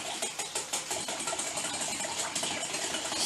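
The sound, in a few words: whisking eggs and vanilla extract together for waffle batter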